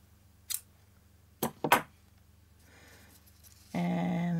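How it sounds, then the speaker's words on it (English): Scissors snip a thin hanger cord for a small Kimekomi Christmas ball, giving a few sharp, close cuts: one single snip, then a quick double. A louder tonal hum starts near the end. "Cut it off"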